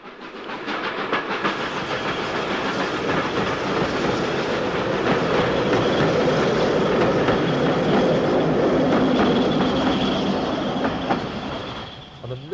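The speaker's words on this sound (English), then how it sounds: "Northbound on the 340 Bournemouth-Bristol, Evening Star rumbles over the bridge." The steam locomotive Evening Star hauls the northbound Bournemouth-Bristol train over a bridge on the Somerset & Dorset line, a loud continuous rumble with rhythmic wheel clatter and faint squeal that fades slightly toward the end.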